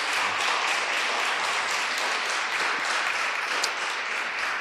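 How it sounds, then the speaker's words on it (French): A conference audience applauds after a round-table discussion, dense sustained clapping filling the room at fairly high level throughout, no speech over it. "Je vous propose des applaudissements."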